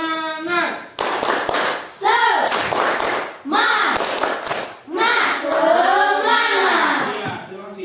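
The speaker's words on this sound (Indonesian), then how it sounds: "Sebelumnya kita sekali lagi tepuk semangat." A classroom of students performs a tepuk semangat clapping chant, rhythmic bursts of group clapping mixed with loud chanted voices in repeated phrases, close and energetic.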